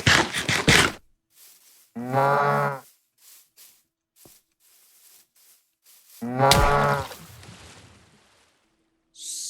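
Two drawn-out moos from a cow in the Minecraft Cobblemon video game, each a low harmonic bellow lasting about a second, separated by quiet gaps with faint game noises and a brief burst of sound at the start.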